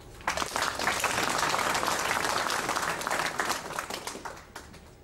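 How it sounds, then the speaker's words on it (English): An audience at a club's hundredth meeting breaks into applause, a close burst of many hands that starts at once, holds for a few seconds, then thins and fades away. "I'd like you to welcome Kate with applause"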